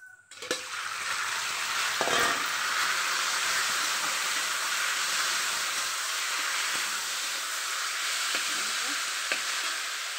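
Meat tipped into a pan of fried spice paste, a loud sudden burst of sizzling that settles into a continuous close hiss with occasional stirring knocks, a voice faintly audible.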